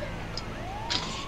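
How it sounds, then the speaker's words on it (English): A wailing emergency siren from a vehicle in GTA Online sweeps upward through driving noise and rumble, sounding moderately close under steady road sound. "Your siren's on, so they're trying to stop."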